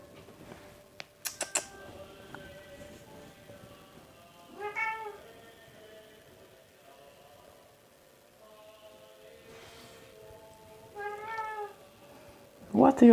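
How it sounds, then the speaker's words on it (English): A cat meows for attention in a few short separate cries spaced across a quiet stretch with some faint background clatter; the meows are soft to moderate and not far off. "I have the cat demand attention."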